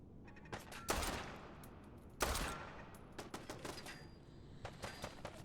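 Pipe rifle gunfire in Fallout 4, several sharp shots and short bursts at irregular intervals, loud and close, with quieter rattling in between.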